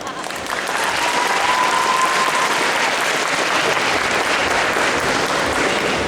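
An audience at a cosplay jury presentation applauds loudly and steadily for several seconds, the clapping swelling in quickly and holding at full strength.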